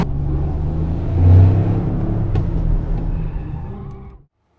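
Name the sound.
2025 Toyota GR Yaris accelerating at full throttle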